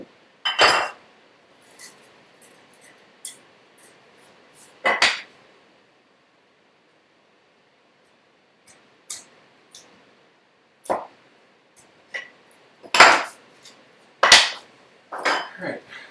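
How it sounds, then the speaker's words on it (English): A mallet gives light, controlled taps to a V-gouge cutting a tusk tenon in a woodshop. Sharp, bright knocks come in scattered clusters with long quiet gaps, several tight taps bunched near the end. "if you can just take nice light taps with the mallet"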